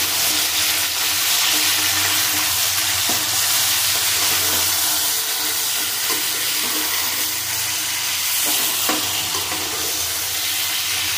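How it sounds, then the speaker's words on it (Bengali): Tomatoes and flat beans frying in a pan while being stirred, a loud continuous sizzle with a watery hiss and occasional scraping stirs, steady for the whole stretch with no talking. "নাড়তে থাকবে যতক্ষণ না টমেটো নরম হতে থাকে।"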